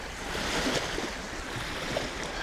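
Waves breaking on the shore of Lake Inari in northern Finland, a steady broadband wash of surf with wind noise on the microphone, continuous and fairly close, with no voices.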